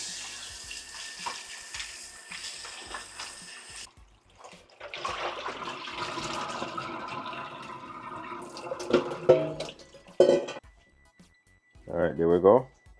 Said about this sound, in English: Get some fresh water. I'll rinse that off.